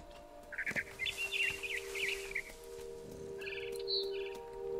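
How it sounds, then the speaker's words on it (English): A frightened bird in the video game What Remains of Edith Finch chirps in rapid bursts of bright tweets, then goes quiet before a few more calls, over a low steady hum. "I tried to be quiet, but the bird is really scared."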